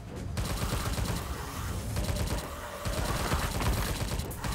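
Rapid automatic gunfire from a Tommy gun in the Tesla vs Lovecraft PC game, sustained bursts of fire running throughout with constant in-game effects mixed in.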